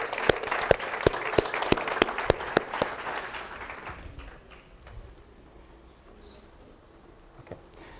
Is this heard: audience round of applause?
yes